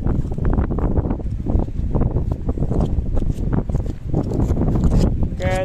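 Wind blows on a beach at Pantai Gandoria in the afternoon, a rough, buffeting gust noise across the microphone with irregular thumps and rustles throughout, fairly loud and close.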